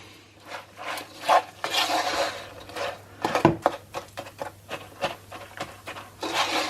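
A spoon scrapes and rubs through a fruit loaf mixture in a pot as baking soda is stirred in, giving irregular rasping strokes with a few sharper knocks against the pot. The sound is close and moderately loud, with no voices.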